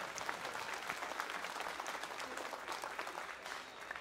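People around the ringside at a junior gilt livestock show applaud the volunteers and donors, a steady fairly distant clapping that carries on throughout without any speech.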